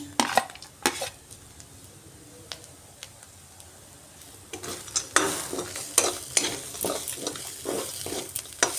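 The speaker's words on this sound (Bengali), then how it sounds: "এইভাবে বাদামটা দিয়ে একটু নাড়িয়ে নিলাম" A spoon scrapes and clacks against a pan as fried peanuts are stirred into a sizzling, dry-roasted spice mix for stuffed kakrol filling; sharp irregular knocks come close and loud over a soft frying hiss, with no talk.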